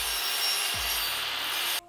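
A hand saw rasps through a piece of timber to cut a pointed wedge, one continuous close stroke of scraping that stops abruptly.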